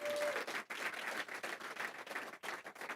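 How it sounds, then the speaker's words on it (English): A small audience at a startup pitch event claps for a presenter, quiet uneven applause with a few distinct hand claps, faint and somewhat distant. "Give her a round of applause again for Brenda."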